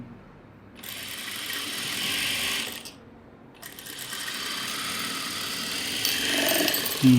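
A sewing machine stitches a chudithar in rapid mechanical bursts, running for about two seconds, pausing briefly, then running again more steadily, close and fairly loud with no talking.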